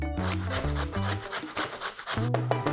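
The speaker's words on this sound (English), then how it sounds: "So as you're grating this pumpkin, when you've grated a couple of pieces, go into the pan" Pumpkin is grated by hand on a grater, giving a close, steady run of rhythmic rasping strokes, about ten of them, repeating without pause.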